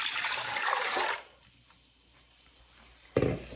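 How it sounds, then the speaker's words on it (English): Filtered well water is poured for a pickling brine of vinegar and canning salt, a loud splashing rush for about a second, then a quiet stretch ending in a sharp knock. "1 cup of water, filtered from my well."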